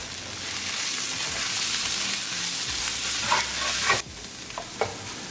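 Coriander powder, red pepper, cumin, salt, garam masala and turmeric stirred into a frying oil tadka for a zucchini sabzi, a continuous loud sizzle with a few spoon scrapes and taps near the end.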